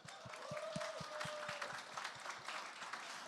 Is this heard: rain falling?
no